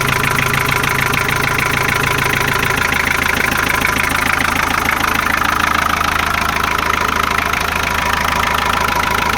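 Ford Sierra 2.3 diesel engine idling, a loud close rattling clatter with a steady rhythmic knock that continues evenly throughout.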